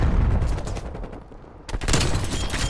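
Rapid bursts of sniper rifle fire in Call of Duty Cold War, loud and dense, several shots in quick succession with a brief lull before another burst.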